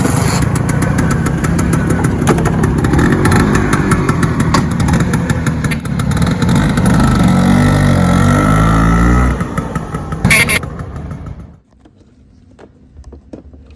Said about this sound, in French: On va redémarrer ce scooter